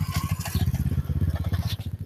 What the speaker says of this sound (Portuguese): Pode passar barulho de moto, de carro